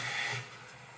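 A toilet tank refills with water after a flush. A soft hiss of running water is stronger at first, then settles lower and quieter.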